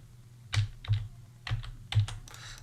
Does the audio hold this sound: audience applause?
no